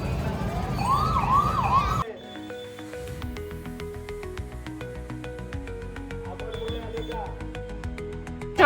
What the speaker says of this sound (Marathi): VIP गेस्ट कोणीतरी आलेले आहेत, त्याच्यामुळे सगळ्या लाल दिव्याच्या सगळ्या गाड्या चाललेल्या आहेत एका पाठोपाठ एक